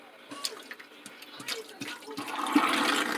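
Tap water runs and splashes while greens are washed by hand, an uneven gush that swells louder toward the end with small drips and knocks.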